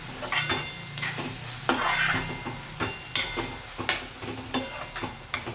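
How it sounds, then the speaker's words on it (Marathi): A spoon scrapes and clinks repeatedly in a pan as fenugreek (methi) leaves are sautéed, with a faint sizzle under the irregular stirring strokes. "आता छान परतून घेऊया."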